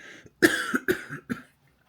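A single person coughs several times in a quick burst, close and fairly loud, with short pauses between the coughs.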